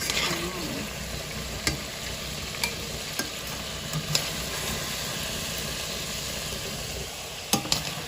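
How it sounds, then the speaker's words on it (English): Lamb browns in a hot pan for a stew, giving a steady, close sizzle with occasional sharp pops and spatters and a few clicks from stirring, with no talking. "Over here, I'm browning my lamb."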